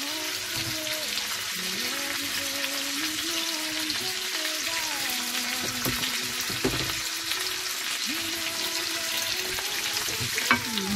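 Garlic and onions fry in a pan with a steady crackling sizzle and occasional stirring, close and continuous, while someone speaks softly over the cooking.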